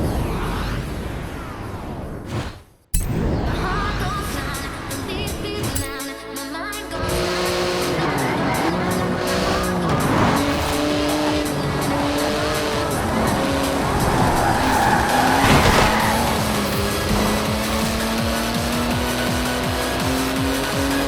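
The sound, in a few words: Porsche 911 GT2 driving and skidding in Forza Horizon 4 video game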